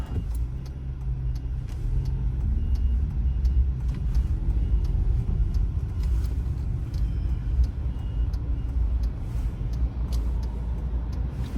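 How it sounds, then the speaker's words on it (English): Heavy road traffic streams past near a busy roundabout, a constant low rumble of car and bus engines with tyre noise and an occasional hiss of air brakes, steady throughout without talk. "Whoa, the traffic's busy."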